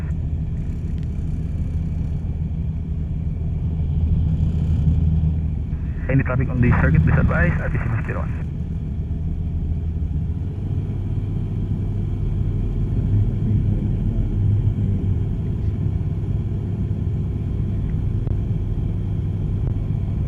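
Small single-engine training aircraft idling at holding point Alpha before taxi to runway 32 at Mati Airport, a steady low engine drone running throughout under radio chatter and speech.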